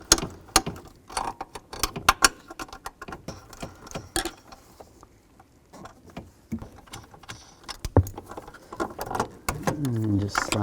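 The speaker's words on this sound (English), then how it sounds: "I'm just going to use a 10mm ratchet wrench. Loosen these up, take those out." A 10mm ratchet wrench loosens nuts on a Chevy Tahoe bracket, giving bursts of quick, close ratcheting clicks separated by pauses, with light metallic handling noises in between.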